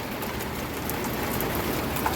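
Steady rain falls outside office windows, a constant even hiss with soft scattered patter, unbroken and alone throughout.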